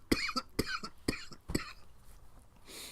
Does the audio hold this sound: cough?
yes